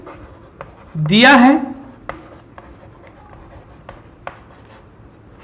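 Chalk or marker scratching across a board during a maths class, brief rhythmic taps and strokes spread through the clip, with a voice speaking loudly over a short stretch near the start.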